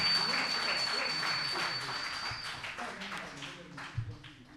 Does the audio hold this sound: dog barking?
no